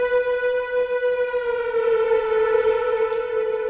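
Blade Runner-style synthesizer patch playing a loud, sustained bright tone rich in harmonics, its pitch slurring slowly downward through bends before settling, with no voices.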